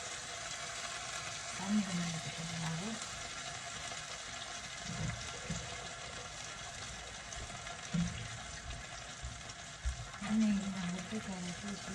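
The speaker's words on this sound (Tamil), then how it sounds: "சிக்கன் வதங்கி கொண்டு இருக்குது" Chicken drumsticks sauté in a pan for a kulambu, giving a soft continuous sizzle and hiss with occasional stirring clinks, while someone talks over the cooking.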